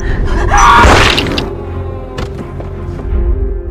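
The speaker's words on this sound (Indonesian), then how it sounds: "Tiba-tiba saja ada sesuatu yang meledak." A sudden loud burst like an explosion in a film, with a rushing roar, followed by rumbling debris and scattered thuds fading out.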